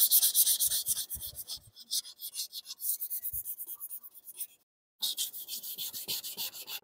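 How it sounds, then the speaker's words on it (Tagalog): A car headlight is hand sanded with 600 grit sandpaper in quick rhythmic back-and-forth strokes, close and scratchy. The strokes pause briefly and then resume at the same pace. "Tamang liha lang para matanggal yung imperfection sa headlights natin."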